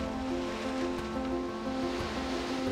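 Ocean surf on a Sea of Japan beach, a steady, continuous wash of broadband wave noise with no distinct breaks, heard close and fairly loud with no voices.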